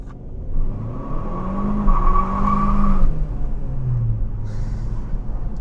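A Hyundai Sonata N-Line launches hard from a stop, its engine revving loud and close as it climbs through a gear, then eases off as the car pulls away, with no one talking.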